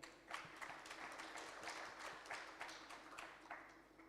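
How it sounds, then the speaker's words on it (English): Audience applause for Mr. Toyota at an ATAF conference session, a steady, moderately distant patter of many hands clapping that holds evenly throughout without speech. "Please, a round of applause for him."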